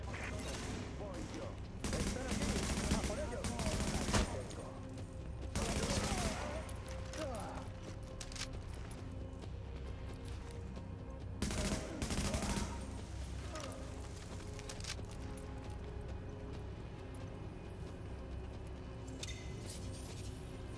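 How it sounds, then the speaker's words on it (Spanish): Bursts of rapid gunfire crackle over a dense, continuous backdrop of game noise and music in The Division, with loud volleys early and again near the middle. "Esos disparos eran tuyos, ¿verdad?"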